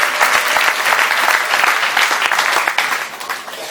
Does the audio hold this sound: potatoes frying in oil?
no